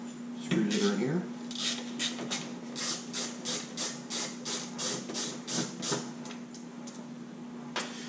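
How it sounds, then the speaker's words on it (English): Screws are turned out of the back of a 65-inch Sony TV, making a run of quick, evenly spaced ratcheting clicks close up under a steady electrical hum, with someone talking briefly at the start. "So from here, we're going to unscrew the screws that are in here."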